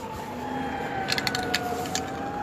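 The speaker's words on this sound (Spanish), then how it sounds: "La ambulancia del SAME ha partido hacia la ciudad de General Villegas." An ambulance siren of the SAME emergency service wails as it departs a crash scene at the junction of routes 33 and 70, a steady tone heard at moderate distance over road noise, fading slightly.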